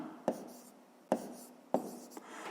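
Pen writing numbers for a fifth-grade maths exercise, with three distinct sharp tapping strokes spaced evenly, each followed by a short scratchy drag, close and fairly quiet.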